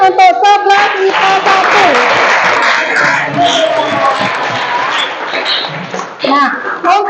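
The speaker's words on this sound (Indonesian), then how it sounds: "Tepuk tangan untuk 11 IPA" A high school class of students applauds together, a steady wash of clapping and cheering mixed with scattered young voices that holds for several seconds before thinning out near the end.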